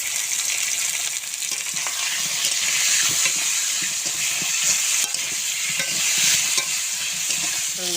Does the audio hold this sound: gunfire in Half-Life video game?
no